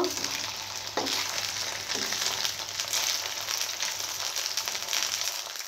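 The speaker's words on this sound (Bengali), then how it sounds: "তো দেখুন এপিট ওপিট করে আমি ভালো করে ভেজে নিয়েছি।" Bottle gourd leaves fry in oil in a pan with a continuous soft sizzle and crackle, plus occasional stirring scrapes and clinks, moderately quiet and close.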